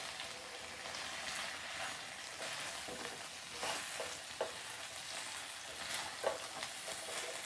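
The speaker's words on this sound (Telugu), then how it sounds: "అలా ఇలా బాగా మంచిగా అన్నీ కోట్ అయ్యేలాగా మిక్స్ చేసుకోవాలి." Chilli paneer stirred and tossed in tangy-sweet sauce, a steady sizzling hiss with soft scraping from the spoon and a few sharper clinks, continuous and close with no talking.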